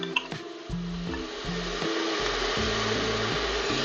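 Finely chopped onions fry in a pan for a homestyle chicken curry, making a steady, close hiss that grows slightly louder. Low, stepped humming tones run underneath.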